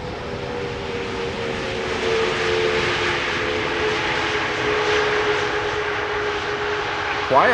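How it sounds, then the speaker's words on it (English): Delta Air Lines Airbus A330neo airliner arriving at Amsterdam Schiphol Airport, a steady loud jet engine roar with a droning whine held throughout. "Delta Airlines Flight 56, the first A330 Neo of the show, arriving from Salt Lake City."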